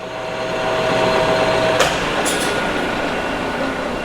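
A cheap non-CNC lathe runs with its chuck turning, producing a steady mechanical whir and rumble with a faint tonal hum, then a brief click and a high metallic squeal partway through, close and continuous with no speech.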